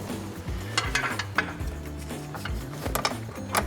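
A ratchet loosens 8mm bolts in the engine bay of a Ford F-150 EcoBoost, giving close, quick bursts of metallic clicking with light clanks of tools, fairly quiet.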